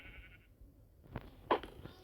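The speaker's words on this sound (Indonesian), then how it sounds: "Nah itu ada domba tuh satu." A single sheep bleats loudly, close by, in a short wavering call after a quiet stretch with faint background noise; no talk over it.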